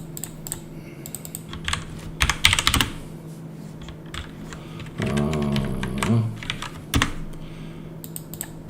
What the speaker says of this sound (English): I think you definitely hear me typing